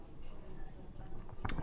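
Pen or marker scratching steadily while equations are written out during a Class 10 maths lesson, a soft continuous scraping close by that ends in a brief louder stroke.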